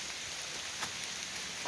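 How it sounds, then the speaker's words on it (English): Heavy rain pours steadily through woods, a dense, hissing wash of drops with a few louder splashes, close and continuous, with no voices. "it's pouring rain."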